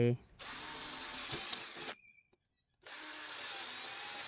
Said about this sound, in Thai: เราจะเจาะรูไม้ไผ่ลูกระนาด